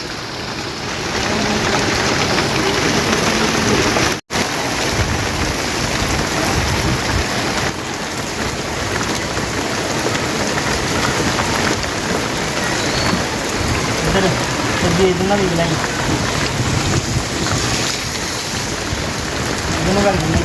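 Heavy rain pours steadily onto the road, a loud, dense roar with splashing water and a brief drop-out early on.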